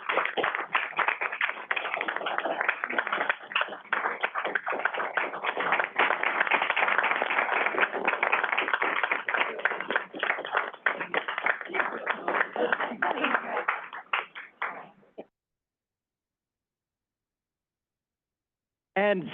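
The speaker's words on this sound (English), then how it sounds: "Please join me in a round of applause." A board of directors meeting breaks into sustained applause, dense clapping from a large group filling about fifteen seconds before stopping abruptly, with a brief voice after a pause.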